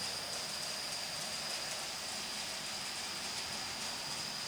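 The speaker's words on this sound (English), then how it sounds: "I now have, finally, train running." A model railroad train running on a DCC-controlled layout gives a steady, continuous rolling whir with a bright high hiss and a faint whine. It stays even and fairly quiet throughout, with no voices.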